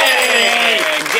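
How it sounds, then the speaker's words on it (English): Brief burst of audience applause and cheering at a live comedy show, loud and close, with voices calling out over the clapping. "Give them a big round of applause."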